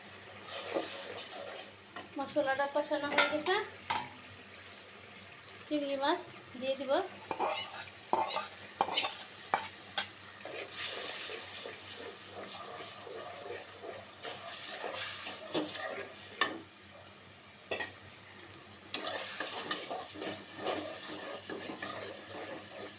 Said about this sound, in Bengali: দুটা চুলা ধরাইছি কারণ গ্যাস পুরাপুরি চলে আসছে সেজন্য কষানো হোক